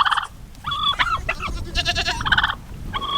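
Turkeys gobble and a rooster squawks in a noisy squabble, overlapping bursts of close, loud bird calls throughout.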